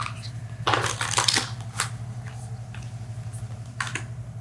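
An animal oracle card is drawn from a deck, making a quick flurry of papery rustles and flicks up close, followed by a few softer card taps.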